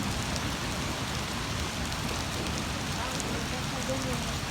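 Heavy rain pours during a tropical lightning storm in the wilderness, a dense, steady hiss of drops on surfaces, loud and close throughout, with no distinct thunder.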